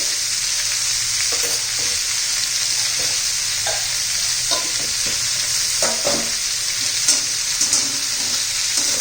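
Capsicum being stirred in a pan with turmeric, red chilli and coriander powder for a dry sabzi: a steady sizzle with intermittent scraping strokes of the spatula over about nine seconds, close and fairly loud, no talking.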